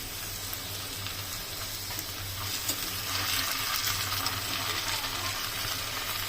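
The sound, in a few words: potato twisters frying in hot oil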